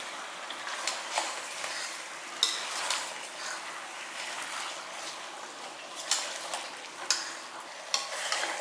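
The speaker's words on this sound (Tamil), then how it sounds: "நல்லா இந்த சிக்கனில் இந்த மசால் ஃபுல்லாகவே நல்லா உரைக்கிற மாதிரி நல்லா கிளறி விடணும்." Chicken coated in masala stirred in a pan, a low continuous sizzle broken by repeated scraping and clinking strokes of a spoon at an unhurried, irregular pace, close and fairly quiet.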